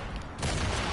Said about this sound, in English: Ah, oh, that's a grenade!